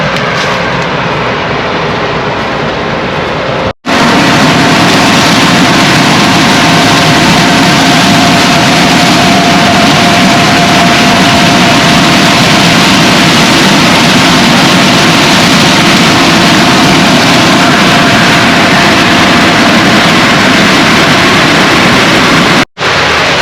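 A combine harvester engine runs during a corn harvest. It makes a loud, steady, close drone, broken only by two brief dropouts near the start and end.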